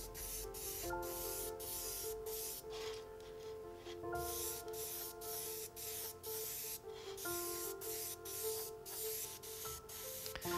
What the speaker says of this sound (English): It's almost like a dry brushing technique with an airbrush.